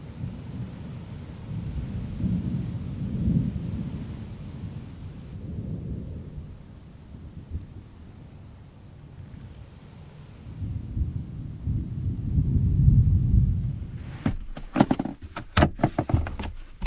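Thunder from an approaching lightning storm rolls in long, deep rumbles at a campsite, swelling and fading twice before a few sharp close knocks and crackles near the end.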